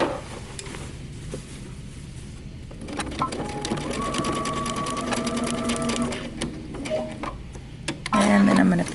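A home sewing machine runs in short and longer bursts of rapid stitching while sewing a dress from Simplicity pattern 8123, close and moderately loud, with quiet pauses between runs.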